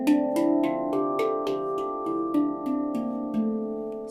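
A D Kurd handpan played note by note around its outer ring, each strike ringing with a bright metallic attack and long, overlapping sustain, moving steadily at about two notes per second, alone and close.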